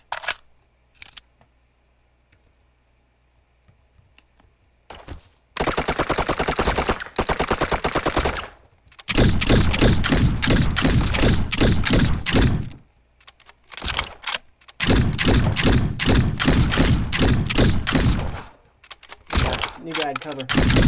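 Rapid automatic gunfire in the sandbox battle game Ancient Warfare 3, loud close bursts that run for several seconds at a time with short breaks between them, and someone talking at the start and end.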